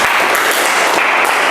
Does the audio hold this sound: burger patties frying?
no